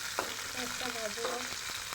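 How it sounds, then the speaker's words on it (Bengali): Chopped onion with two dried chillies frying in soybean oil, a steady close sizzle with soft stirring scrapes and a few brief clinks, no voices. "পেঁয়াজটা ভাজবো।"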